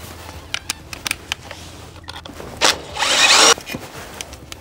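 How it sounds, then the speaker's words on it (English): A power drill pre-drilling a hole for a gutter downspout whirs in two short bursts, the second longer and louder, after a series of scattered clicks and knocks close by. "Pre-drill it."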